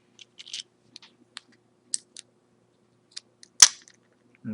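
Bearings being pressed into a Duratrax Evader EXT2 RC car differential make small sharp plastic clicks and ticks, sparse and close, with one louder snap near the end.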